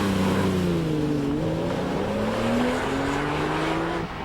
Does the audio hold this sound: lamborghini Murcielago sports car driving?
yes